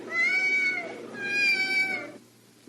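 A cat-like alien creature in an audio drama gives two drawn-out, clear meows in a row, close and loud, and then goes quiet.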